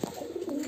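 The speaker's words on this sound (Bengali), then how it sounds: "দুটো কবুতরই আপনার নাকটানা জাতের, খুলনার নাকটানা জাতের কবুতর দুটোই" A Khulna Naktana high flyer pigeon, one of a male and female pair, gives a single soft, low coo, close and alone.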